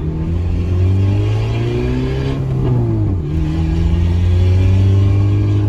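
Peugeot 206 1.4 engine heard from onboard, revving up steadily through the gears with a loud, continuous exhaust note, pitch rising and dipping as it accelerates.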